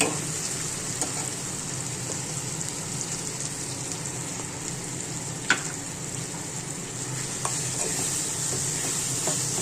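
Tomatoes frying in a pan for a mango and tomato chutney, an even rain-like hiss sustained throughout with a couple of faint knocks, close, with no voices.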